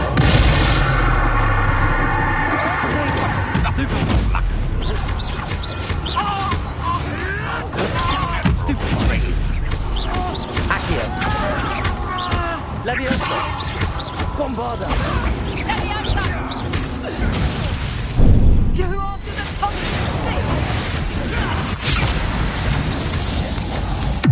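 A Bombarda spell explodes in the Hogwarts Legacy video game, with booming blasts and crashes among busy game sounds while a person talks over them.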